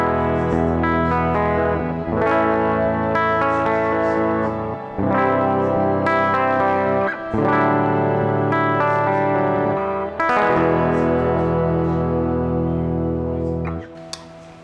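PRS Tremonti electric guitar with a Seymour Duncan bridge pickup, strummed chords ringing out with chorus, echo and reverb, loud and close, several sustained phrases with brief gaps between them.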